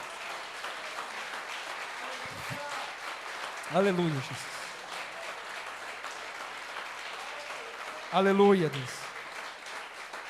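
Church congregation applauding in a steady wash that runs through the whole stretch, with a worship leader's voice calling out twice over it.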